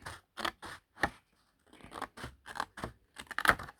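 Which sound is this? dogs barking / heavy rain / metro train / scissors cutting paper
scissors cutting paper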